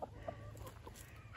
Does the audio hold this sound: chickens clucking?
yes